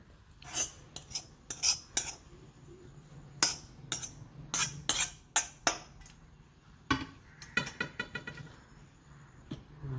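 A spoon scrapes and clinks against a bowl, mixing carrot masala into puttu flour in a run of sharp, irregular taps and scrapes, close and fairly loud.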